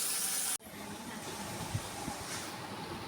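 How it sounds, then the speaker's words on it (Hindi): Carrot and mutton curry fries in a pot, giving a steady close sizzling hiss that cuts off sharply after a moment and then resumes as a broad, continuous sizzle with a few soft knocks. "इतने में मैं इसकी भुनाई करता हूँ।"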